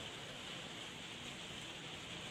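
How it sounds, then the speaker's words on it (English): Rain falls outside a home on a Tuesday morning as a steady, soft, even hiss with no voices over it. "it's raining as you may be able to hear"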